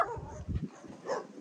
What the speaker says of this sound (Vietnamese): Trời ơi, đem mấy con chó về á.